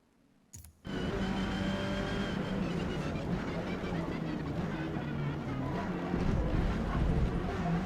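A race car engine drones loud and steady through practice laps on a track in Forza Motorsport, cutting in abruptly after a brief quiet start and holding a continuous roar with slight surges.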